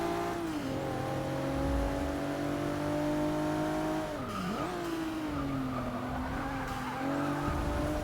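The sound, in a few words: race car late braking, tire squeal in Forza Motorsport 6 video game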